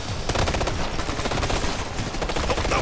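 Dense, continuous bursts of automatic gunfire in the video game Future Soldier, loud and close, with overlapping shots and rapid rattling volleys throughout.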